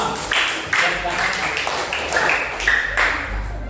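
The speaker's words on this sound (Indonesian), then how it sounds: "beri tepuk tangan kepada kelompok 5" A classroom applauds group 5 with a burst of many hands clapping, uneven and overlapping, rising and falling in several waves with chatter mixed in.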